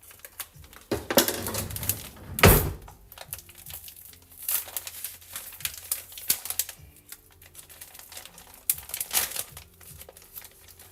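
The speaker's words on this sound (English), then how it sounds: "We're going to get our scissors so we can cut open that nori pad." Scissors cut open a plastic package of nori sheets in a home kitchen, with crinkling plastic and sharp snipping bursts in irregular clusters, one louder crackle early on, close up and without speech.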